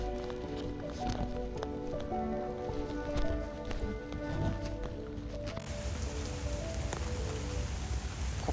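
Rain falls steadily across an empty outdoor playground, a continuous even patter at moderate distance with no voices.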